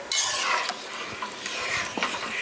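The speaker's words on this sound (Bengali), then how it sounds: "এবার ভালো করে মিশিয়ে দিচ্ছি।" A spoon stirs dalia khichdi with water in a cooking pot, giving a close, steady scraping and swishing with light clinks of utensil against metal, heard alone without talk.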